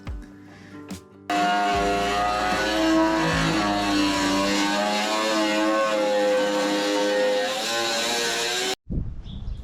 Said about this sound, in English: Then I try the cut-off wheel, which draws a bit of power cutting aluminium.